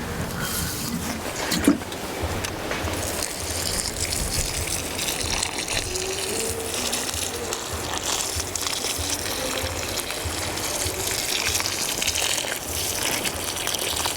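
Water gushes steadily from a hose or can onto plants in a garden bed, a loud, continuous splashing rush with a small bump near the start and no talking.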